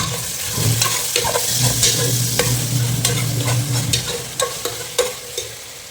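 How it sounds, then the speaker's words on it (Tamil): Onions and green chillies sauté in a pan for potato mutton dum biryani, a close, loud sizzle broken by repeated sharp spatula scrapes and knocks against the pan. "கொஞ்சம் நல்லா வதங்கட்டும்."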